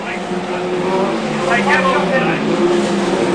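Saloon racing cars roar around the Cowdenbeath raceway oval during a British Championship race, engines loud and steady with rising and falling revs as cars jostle for position, under a commentator's voice.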